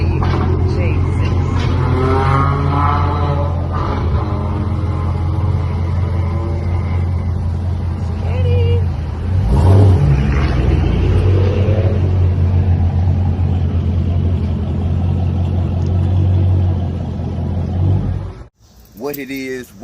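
Dodge Charger Scat Pack fitted with an MBRP street catback exhaust, its deep exhaust rumble droning steadily under someone talking throughout, with one louder swell partway through before cutting off near the end.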